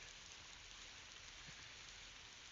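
Steady rain hisses evenly throughout at night near Camara and Capones Island, Philippines, a soft continuous wash of falling drops with no other sounds standing out.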